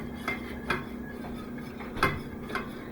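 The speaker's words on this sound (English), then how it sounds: "let me just whisk it in" A whisk scrapes and clinks against the metal pan as salt is stirred into a bechamel sauce, giving a few sharp, separate taps over a low, steady background hum.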